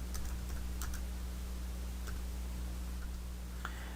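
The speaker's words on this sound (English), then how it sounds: "So we type clause 1, clause 2," Keys tapped on a computer keyboard while filling in document fields, a few sparse, quiet clicks over a steady low electrical hum.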